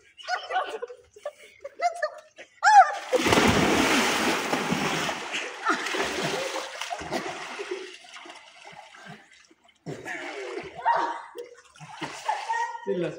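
Water splashes loudly in a swimming pool in a long burst, then a few smaller splashes, between stretches of excited voices talking and shouting.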